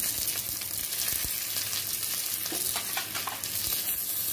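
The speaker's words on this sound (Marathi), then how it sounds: "हा कांदा व्यवस्थित आपण थोडा लाल होईपर्यंत परतून घेऊ" Onion sizzling steadily in hot oil in a pan, sautéed until reddish-brown while being stirred, with occasional soft scraping clicks over a continuous loud hiss; no talking.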